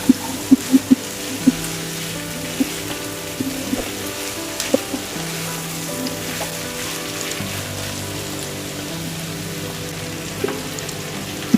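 Taro stolons fry in a pan with a steady, close sizzle, while a spatula stirring them adds occasional clacks and scrapes against the metal throughout.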